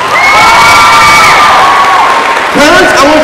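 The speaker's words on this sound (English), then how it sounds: "Give all the parents a round of applause for being here." A large crowd at a youth Islamic gathering cheers, whoops and shouts loudly, with children's voices mixed in, for parents standing up, a continuous roar that dips briefly before swelling again.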